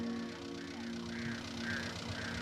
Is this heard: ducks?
yes